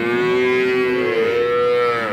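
Holstein Friesian dairy cow giving a single long, loud moo close by, a sustained low tonal call that shifts slightly in pitch partway through.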